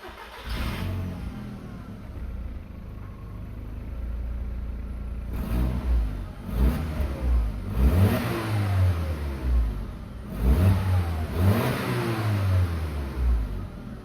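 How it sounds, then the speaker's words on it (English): A 2003 Volkswagen New Beetle Turbo S with its four-cylinder turbo engine idles, then its exhaust rises in three loud, close revving bursts, each falling back toward a steady idle. "It also gives a nice sound, especially for four-cylinder turbo."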